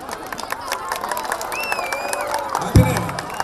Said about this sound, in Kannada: ಅವರಿಗೆ ಜೋರಾದ ಚಪ್ಪಾಳೆ.